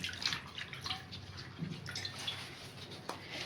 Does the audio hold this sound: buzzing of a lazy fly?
no